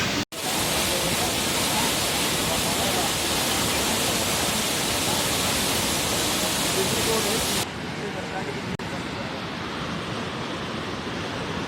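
Floodwater after heavy rain in Uttarakhand rushes loud and close, a dense continuous roar that drops slightly in level near the end.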